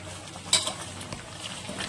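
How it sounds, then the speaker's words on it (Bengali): Fried potatoes drop into a pot of mutton curry with one sharp clatter of metal, then softer scraping and stirring of the utensil against the pot. "যে আলুটাকে ভেজে রেখেছিলাম আলুটা আমি দিয়ে দিচ্ছি।"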